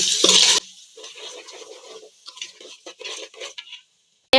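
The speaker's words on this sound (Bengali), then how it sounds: "পোলার চালটাকে ভালো করে ভেজে নেব" Polao rice for a beef biryani is fried in a pot with ginger and garlic, giving a burst of loud sizzling at first, then sparse scraping and clinking stirs, close and without talk.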